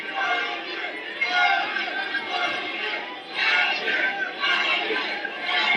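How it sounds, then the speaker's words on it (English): The crowd at a college wrestling dual between Mizzou and Appalachian State makes a loud, steady roar of voices and cheering that swells and dips throughout, with no single voice standing out. "The crowd really getting into this match."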